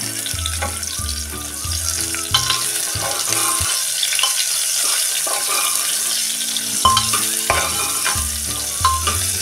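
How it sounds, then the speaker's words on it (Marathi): A large onion, with whole garlic cloves, sizzles in a pan for masala rice while a spoon stirs it, scraping and clattering steadily up close. "त्यात टाकूया हा मोठा कांदा"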